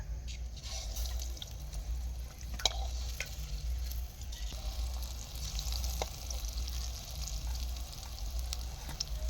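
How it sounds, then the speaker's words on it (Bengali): Tomato chops deep-frying in hot oil, giving a steady, close sizzle and bubbling hiss with scattered sharper pops and crackles running throughout, no talking. "তো এবার আমরা টমেটোর চপগুলো ভাজবো।"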